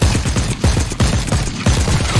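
A silver rifle in The Cycle fires in a steady rhythmic string, roughly five or six punchy shots a second, each with a booming low thump, close and loud with no talking.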